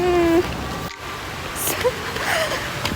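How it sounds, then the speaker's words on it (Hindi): Heavy rain falling in Pune, Maharashtra, a steady hiss of drops on surfaces with occasional louder splashes and faint background tones, fairly close and continuous throughout. "Oh guys, it's raining."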